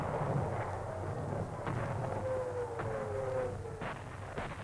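High-explosive bombardment of enemy forces in WWII archive footage, a dull continuous rumble with several muffled booming thuds over a low droning hum, distant and steady.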